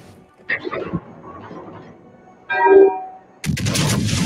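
Naval gunfire in a video game as an enemy destroyer is blown up: a few sharp bursts, then a louder, sustained blast near the end, with no talking.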